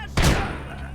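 A single loud grenade-like blast near 0.2 seconds in the VR shooter Convrgence, with a broad burst that decays into a rumbling tail and sustained gunfire-like noise.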